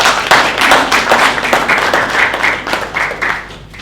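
Audience applause after a presentation at an AI summit, a loud burst of dense clapping that holds steady and then tapers off toward the end, heard with no talk.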